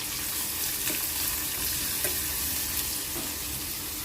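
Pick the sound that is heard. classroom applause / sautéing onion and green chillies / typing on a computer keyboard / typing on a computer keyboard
sautéing onion and green chillies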